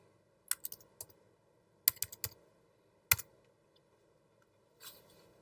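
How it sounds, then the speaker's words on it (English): Typing on a computer keyboard in short uneven bursts of crisp key clicks, close and fairly quiet, with pauses between the clusters and a soft brush of movement near the end. "I'm going to click and I'm going to type"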